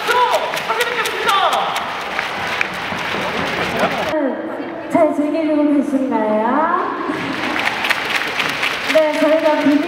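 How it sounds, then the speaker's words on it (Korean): Fans in a packed baseball stadium on opening day applaud and cheer. The broad crowd noise swells under amplified speech from the stage, dips briefly, then rises again. "뮤비지의 팬들분의 박수로 환영하겠습니다"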